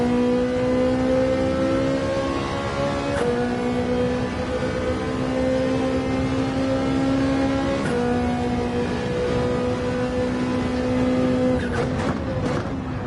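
A Ferrari 458 race car engine heard onboard at Bathurst, a loud, steady high-revving drone with sharp upshift breaks at several points, running continuously without any talk.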